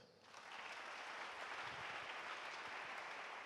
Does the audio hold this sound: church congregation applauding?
yes